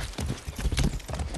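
Horse hooves clip-clop in quick, uneven strikes in the Far Cry 6 video game, close and fairly loud for a brief burst with no talking.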